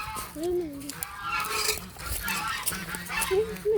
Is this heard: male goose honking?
yes